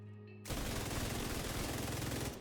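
Continuous rapid automatic gunfire from the Centurion's Scabbard in The Division 2 shooter game, a dense unbroken burst starting abruptly after a brief quiet moment and staying loud to the end.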